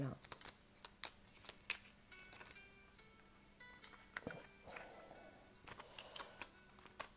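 Tarot cards are shuffled and laid out during a love reading, giving soft riffling and repeated light slaps and flicks at an irregular pace, close and fairly quiet.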